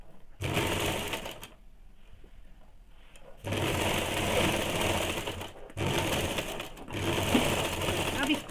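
Salwar fabric runs through a sewing machine in rapid, whirring stitching bursts, four runs separated by short pauses, close and clear, with a voice speaking quietly in the gaps.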